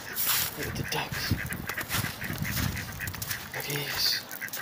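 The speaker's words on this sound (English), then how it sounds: "There's ducks. Look at the ducks." Ducks and geese quack and honk in a noisy, overlapping chorus outdoors, with a person talking over the birds throughout.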